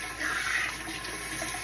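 Running water rinsing face cream foam off skin at a sink, a brief steady splashing stream, close and fairly loud, with no talking.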